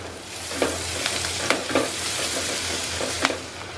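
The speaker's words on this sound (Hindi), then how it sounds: "लो टू मीडियम फ्लेम पे लगातार चला के लहसुन को लाइट ब्राउन होने तक भून लेते हैं।" Finely chopped garlic sizzles in oil in a pan over a low to medium flame, with steady frying hiss broken by repeated scraping stirs of a spoon, close and loud.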